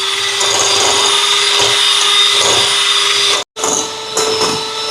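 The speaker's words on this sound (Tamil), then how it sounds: "இப்போ இது ரெண்டையும் பீட் பண்ணி எடுப்போம்" An electric beater whirs steadily while beating white and brown sugar for chocolate cookies, a loud constant motor hum with faint scraping in the bowl, briefly cutting out before starting up again.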